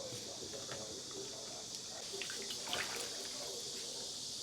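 Boiled lamb offal is rinsed under running water, giving a steady, faint trickling hiss with small splashes throughout.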